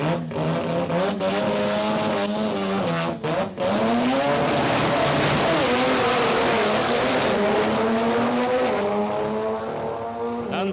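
An Aeroflow Outlaw nitro funny car makes a drag racing pass at Palmyra Dragway, its engine a loud, rough, rising roar with a brief stumble, then a long sustained howl that fades toward the end, with an announcer talking over it.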